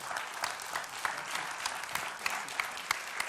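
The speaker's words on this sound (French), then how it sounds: "applaudissements" Audience at a business awards ceremony claps steadily, a moderately distant patter of many hands with a few sharper individual claps standing out.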